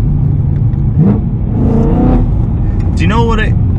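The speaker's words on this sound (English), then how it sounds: "exhaust notes are ridiculous" The engine and exhaust of a BMW M3 rumble loudly and steadily from inside the moving car, with someone talking over the sound almost throughout.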